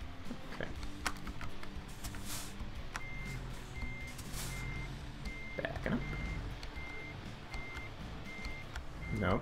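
A truck backing up in American Truck Simulator, with evenly spaced electronic reversing beeps sounding at a steady rhythm over engine rumble, keyboard clatter and brief air-brake hisses.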